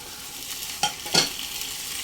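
About 600 g of chicken in medium-sized pieces is sautéed with spices in a pan while it is made into haleem. A steady sizzle runs throughout, and two louder stirring scrapes come close together. There is no talking.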